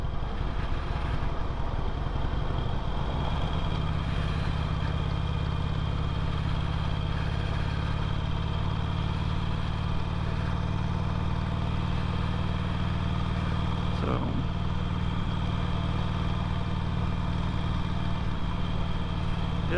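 A 2008 Harley-Davidson Sportster 883L motorcycle engine runs at low, steady speed, a constant close mechanical drone that holds through the whole stretch without any clear surge or drop.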